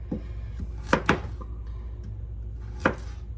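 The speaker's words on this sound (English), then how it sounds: "because I'm cutting everything kind of small" Vegetables are cut small on a cutting board for soup, with a few sharp close knife chops, a quick pair and then a single one, over a quiet background.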